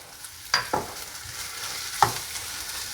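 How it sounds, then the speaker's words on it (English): Crab topping being mixed with hot sauce and salt in a bowl, a few faint, scattered clinks and stirring taps over quiet background. "And just mix that around to get it all combined in."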